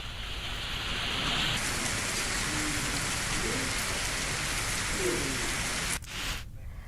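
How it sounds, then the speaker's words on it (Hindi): Steady light drizzle falls continuously in Chhattisgarh, India, a dense, even hiss of rain that stays loud and unbroken, with no voices. "आप देख पाएंगे कि सुबह से ही लगातार रिमझिम बारिश हो रही है।"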